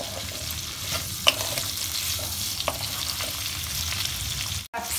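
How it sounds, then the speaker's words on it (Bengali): Tomato, capsicum and onion chunks frying in a pan, a close, even sizzle with a few sharp clinks of a spatula, then a brief break near the end. "এবার টমেটো ক্যাপসিকাম আর পেঁয়াজ একটু ফ্রাই করে নেব।"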